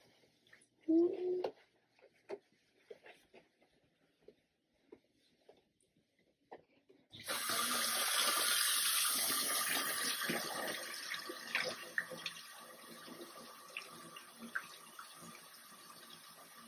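A tap in a bathroom opens and water runs steadily and loudly into a sink for several seconds, after a few quiet handling clatters during a bed bath care demonstration.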